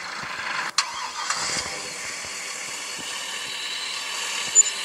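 A car in the video game Farming Simulator 23 cranks and catches with a sharp start, then settles into a steady mid-pitched idle that runs on alone, with a couple of small knocks near the end.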